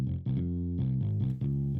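Bass instrument with effects applied in BandLab, dry with no reverb, playing sustained distorted notes in three phrases of roughly a half second each, loud and steady with no other sounds.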